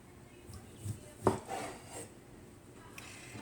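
A knife cuts a piece of roast beef deli meat into quarters on a board, making one faint, dull knock with a few softer scraping sounds around it in a quiet room.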